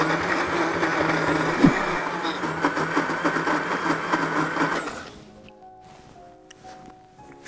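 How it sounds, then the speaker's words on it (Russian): An electric mixer whirs steadily as it whips Raffaello coconut candies in a kitchen, a loud, continuous buzzing drone that suddenly stops, leaving quieter clinking and background sounds. "Мы взбиваем наши конфеты."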